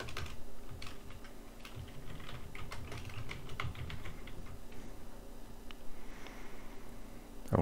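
Steady typing on a computer keyboard, with dense, irregular key clicks continuing throughout at close range, with no voices present.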